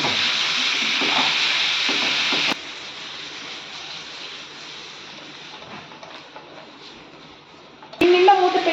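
Tomato, ginger, green chillies, cashews and garlic stirred in a frying pan, a soft sizzle with occasional spoon scrapes, near and fairly quiet, then a brief louder clatter at the end.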